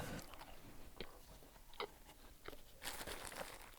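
Tim Hortons Timbits are bitten and chewed up close, a series of soft, crunchy mouth sounds with separate bites and a louder crunchy burst near the end, quiet and without talk.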